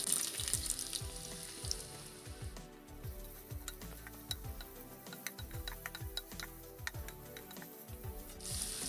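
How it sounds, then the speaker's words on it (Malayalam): Steady oily sizzle and crackle of onions and shallots frying in hot coconut oil, with a repeating low knocking or ticking underneath throughout, no voices. "എണ്ണ നല്ലപോലെ ചൂടായിട്ടുണ്ട് അതിലേക്ക് നമുക്കിതാ ഒരു സവാള ഒരു പത്ത് ചെറിയ ഉള്ളി ചേർത്ത് കൊടുക്കാവേ"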